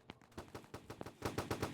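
Rapid video game gunfire rattles off in a quick run of about a dozen sharp shots, growing denser and louder toward the end, with no talk over it.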